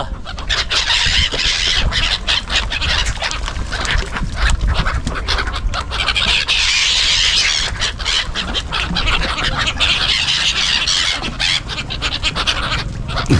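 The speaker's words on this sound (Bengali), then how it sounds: "এই সাইবেরিয়ান পাখি, সাইবেরিয়ান পাখিকে দেখো দানা খাওয়াচ্ছি" A dense, noisy flock of Siberian migratory birds being fed grain squawks and squeals continuously, loud and close, with rapid overlapping calls and wing flutters throughout.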